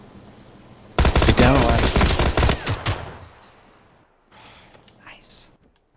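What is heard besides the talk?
gunfire in PUBG video game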